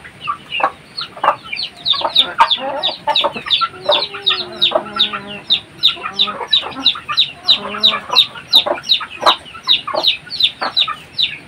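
A flock of farm chickens clucks busily and repeatedly at close range, with overlapping calls forming a continuous, lively rhythm.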